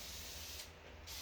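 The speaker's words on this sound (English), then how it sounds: "I am going to use a little bit of spray" A spray can hisses steadily onto a stencilled mid-century coffee table, with a short dip in the middle of the burst, heard close and alone.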